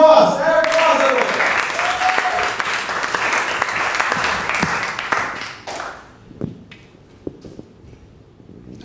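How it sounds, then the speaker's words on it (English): Loud audience applause at a comedy show fills the first six seconds, broad and steady, then fades to scattered claps and quiet room noise. "Give it up, everybody, for Eric Frost"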